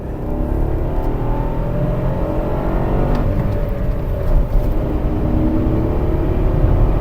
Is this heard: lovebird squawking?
no